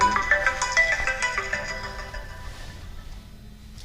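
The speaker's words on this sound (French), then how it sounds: "Votre téléphone sonne." Telephone ringtone chiming brightly in a fast melodic pattern, fading out toward the end as the call is about to be answered.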